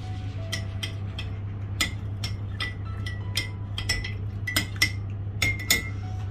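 A spoon stirs lemon juice into a drink in a cup, making a run of quick, bright clinks against the side, irregular and close over a low steady hum.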